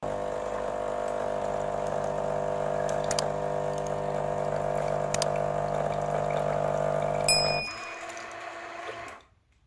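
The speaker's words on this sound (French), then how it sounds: "le rinçage s'effectue à l'allumage de la machine" A Krups Essential espresso machine runs its rinse cycle with a steady pump hum that holds for several seconds, then cuts off with a short clatter before quiet.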